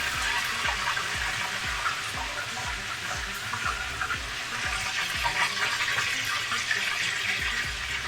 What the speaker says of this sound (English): Sorry, the sizzling's a little loud, overtaking my voice over there.